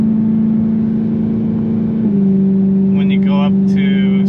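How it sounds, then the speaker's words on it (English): Steady low exhaust drone from a BMW M3 with a modified stock exhaust or muffler delete, cruising around 3,000 rpm; a constant loud hum holds throughout, shifting pitch slightly midway, with brief faint higher tones near the end. "if you modify the stock exhaust, say if you do a muffler delete, there's a lot of drone"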